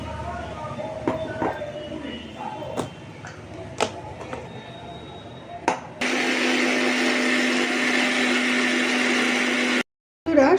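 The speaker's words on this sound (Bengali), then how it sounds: "মিক্সিতে এটা ভালো করে পেস্ট করে নেবো।" A kitchen mixer grinder grinds semolina into fine powder, its motor starting abruptly into a loud, steady high whine that cuts out briefly near the end and then restarts, following a few scattered handling clicks.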